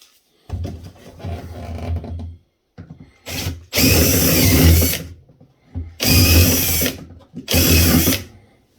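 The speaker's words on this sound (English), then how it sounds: "We're going to drill them out." A power drill whirs loudly in several bursts of a second or two each, starting and stopping, with brief pauses and low handling noise in between.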